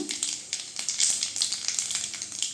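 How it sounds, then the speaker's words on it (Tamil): Dried red chillies and cumin seeds sizzle in hot oil with a close, crackling sputter that pulses in quick bursts, with no voices. "காஞ்ச மிளகாய் சேர்த்துக்கலாம். ஜீரகம் சேர்த்துக்கலாங்க."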